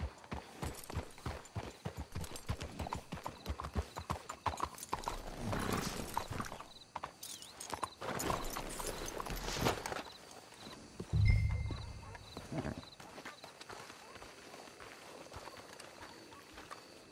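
Horses in Red Dead Redemption 2 clop along in a steady walking rhythm, with a whinny partway through over game ambience and music.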